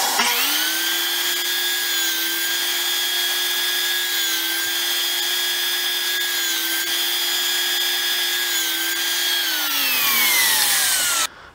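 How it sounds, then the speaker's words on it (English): A power saw cuts pieces of black Alumilite resin against a stop block, one steady high whine holding for about ten seconds before winding down, loud and close with no talk. "Now I'll cut 4 pieces of this black alumilite."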